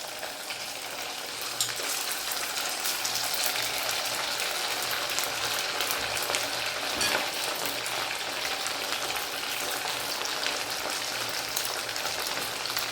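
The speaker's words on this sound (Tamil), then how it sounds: "இப்போ எண்ணெய் சூடி இருந்துச்சு நம்ம இந்த ஊறிட்டு இருக்க சிக்கன் துண்டெல்லாம் அதில் வந்து போட்டு பொறிச்சு எடுத்துக்கலாம்" Marinated chicken pieces for dragon chicken frying in hot oil, a dense, steady crackling sizzle that fills the whole stretch without a break, close and loud, with no voices.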